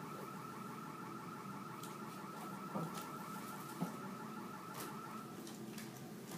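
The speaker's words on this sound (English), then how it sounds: "That must be somebody's car alarm." A car alarm sounds at a distance outside, faint and repeating in a steady pulsing warble that continues throughout, with a couple of small knocks nearby.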